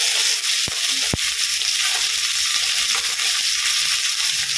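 Fish frying in a small amount of oil, a loud, dense and steady hiss close by, with a few sharp pops and crackles, no talking.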